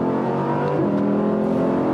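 Audi R8 evo engine revving under throttle, a loud, steady close-up drone with layered harmonics and a brief shift in pitch partway through, with no talking.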